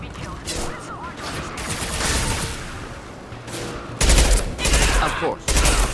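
Bursts of rapid gunfire from a Mass Effect 2 firefight crackle loudly in uneven volleys, heaviest toward the end, with faint voices in the background.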